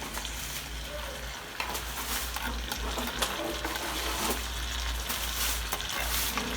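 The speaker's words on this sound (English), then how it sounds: "I've simmered my peppers and onions." Peppers and onions cooking in a pan give a steady, dense sizzle throughout, with occasional soft clicks and scrapes of stirring close by.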